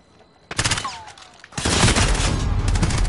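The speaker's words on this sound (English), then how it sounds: "they hit you with a flash and a grenade." Flashbang and grenade blasts in Call of Duty Modern Warfare during a tournament match: a quiet lull broken by a sharp burst, a high ringing whine, then a sustained loud roar of explosion and gunfire noise that fills the rest.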